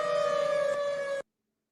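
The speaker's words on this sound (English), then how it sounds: "you might be hearing the tornado sirens" A tornado warning siren wails as a steady, loud tone, heard alone for about a second before it cuts off abruptly into silence.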